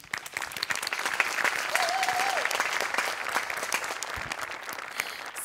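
A studio audience applauds the performers at a Marathi comedy show, a dense, steady burst of clapping that stays loud throughout, with a brief whoop or vocal note rising over it.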